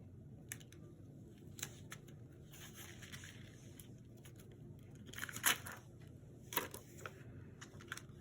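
Stickers handled and pressed onto a paper page during scrapbook decorating, with quiet crinkling, peeling and tapping sounds, a few sharper rustles and taps toward the end, close and faint against soft room noise.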